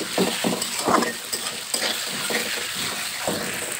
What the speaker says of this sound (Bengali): সুন্দরভাবে ভেজে নেব